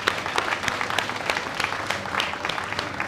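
Applause at a Guyana and Caribbean vaccination launch honouring Nurse Wendy Lillian, a steady wash of many hands clapping throughout, fairly dense and even with no clear peaks or talk.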